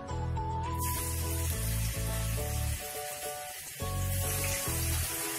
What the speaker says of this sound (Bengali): গরম হয়ে গেছে, এখন এক একে চিকেনের টুকরোগুলো ছেড়ে দেব।